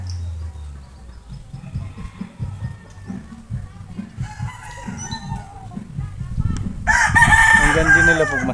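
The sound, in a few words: chickens and rooster crowing, backyard pet chickens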